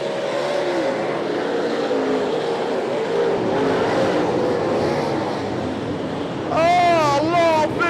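Super sedan race cars roar around the dirt oval at Archerfield Speedway. A dense, continuous engine drone runs throughout, and a sharper revving engine note rises near the end as a commentator talks over it.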